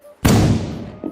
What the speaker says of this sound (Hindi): ये पटाखे कौन बजा रहा है?